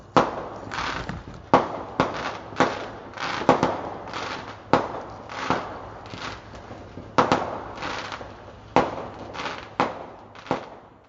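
Fireworks bursting outdoors in the Glebe, Ottawa, on Canada Day night, a long irregular series of sharp cracks and bangs, some in quick pairs, each fading with a short echo, heard from a distance across the neighborhood.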